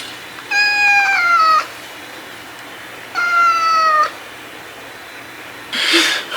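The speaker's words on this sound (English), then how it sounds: "It's a kitten." A kitten meowing close by: two drawn-out, high, slightly falling cries with a pause between them, followed by a short breathy noise at the end.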